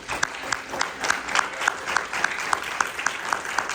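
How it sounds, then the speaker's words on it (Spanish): Church congregation at an evangelistic service in Kilgore, Texas, applauding: a steady, moderately loud patter of many hands with regular accented beats, somewhat distant and roomy, no voices on top. "Puede aplaudir al Señor."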